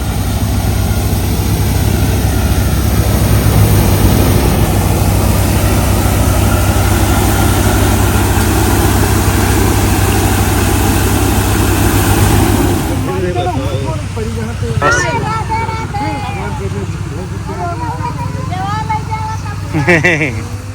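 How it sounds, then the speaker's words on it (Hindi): A tractor engine runs steadily while harvesting a mustard crop in a field, a loud continuous low drone that eases off partway through as voices talk over it. "आज कटाई होनी है ट्रैक्टर से, तो वही सारा काम चल रहा है यहाँ पर"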